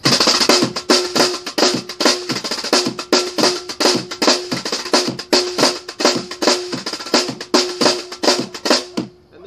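A snare drum plays a groove with left-hand flam triplets on a mansion rooftop in Sorrento, Italy, giving crisp, evenly spaced strokes in a steady, fast rhythm that stops abruptly at the end.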